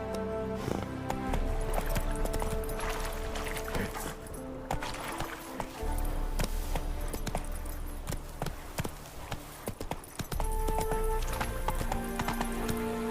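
Roach, the horse in The Witcher 3: Wild Hunt, gallops with rapid rhythmic hoofbeats, joined by a whinny and game music, loud and close throughout.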